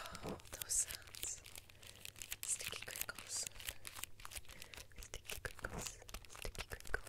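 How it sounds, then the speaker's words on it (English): Sticky crinkling and crackling made close to the microphone in a quiet ASMR setting, soft irregular rustles and crisp pops continuing throughout with a faint whisper in places. "Sticky crinkles."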